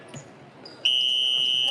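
A basketball game's end buzzer blares as a loud, sustained electronic tone, cutting in sharply after a moment of quieter gym ambience and holding steady to the end.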